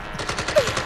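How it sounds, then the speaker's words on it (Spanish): Gunshot sound effects in a reggaeton track, heard as a rapid series of sharp, punchy bursts laid over the song's pulsing beat. "Gunshot."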